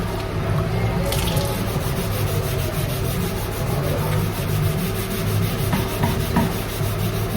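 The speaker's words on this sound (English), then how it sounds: "Warm soapy water, a grey Scotch-Brite, and apparently just rub it until it comes off" A grey Scotch-Brite pad scrubs a motorbike fuel tank in warm soapy water, a steady close rubbing and swishing with wet scraping strokes that goes on without a break and has no speech over it.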